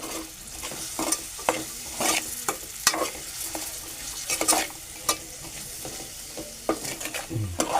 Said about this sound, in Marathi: कांदा चांगला शिजून घ्यायचा आहे परतून घ्यायचा आहे